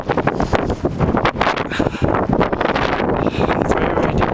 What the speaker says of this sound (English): The winds have been terrible.